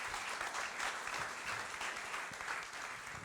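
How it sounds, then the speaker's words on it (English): Audience applause at a campus panel discussion, a steady dense wash of many hands clapping at moderate level throughout, with no voices over it. "Let's clap for that."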